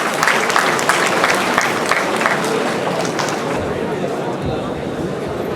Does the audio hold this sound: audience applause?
yes